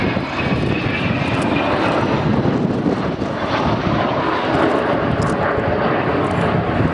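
A loud, continuous roar from an Avro Vulcan XH558 jet bomber flying overhead at an airshow fills the whole stretch, a broad rumbling drone with wind buffeting, sustained at steady strength without pause.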